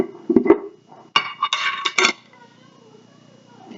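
Salad ingredients are stirred in a bowl with utensils, producing a few close clinks and scraping bursts clustered together, then a quieter stretch of faint rustling.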